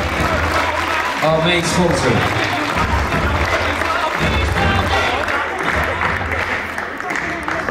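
An audience at the TilburgMoves 2012 dance competition applauds the main sponsor, an accounting and tax advisory firm, with steady clapping and crowd noise under an announcer's amplified voice.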